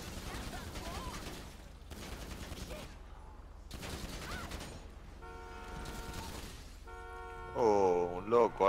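Gunfire in the GTA 5 video game: repeated bursts of rapid shots in close succession with short gaps, alongside other game sounds and a louder burst near the end.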